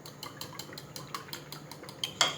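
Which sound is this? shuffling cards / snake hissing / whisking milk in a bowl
whisking milk in a bowl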